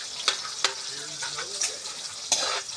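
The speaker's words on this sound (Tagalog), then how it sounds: "Gisa ko yung sibuyas, kamatis, yan, bawang" Onion, tomato and garlic sautéing in a pan for ginataang suso make a soft, steady sizzle, broken by a few sharp clinks and scrapes from stirring.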